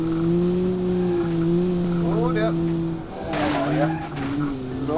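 A 1966 Gasmea road car in Automation brakes hard from about 105 mph for a bridge, tires squealing over the steady engine drone, followed by a brief burst of skidding noise as the engine settles again.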